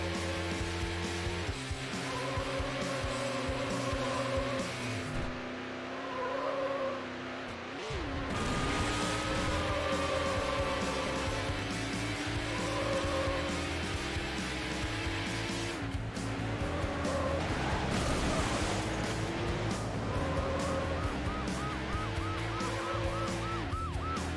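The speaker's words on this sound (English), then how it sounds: "In pursuit. Vehicle is a yellow Lamborghini Diablo." A yellow Lamborghini Diablo roars through a police pursuit in Need For Speed Hot Pursuit 2, its engine droning steadily with tire squeals and game music layered throughout, loud and continuous.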